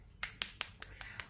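Six sharp, separate claps spaced evenly about a fifth of a second apart, close and fairly quiet, like one person clapping alone in a small room.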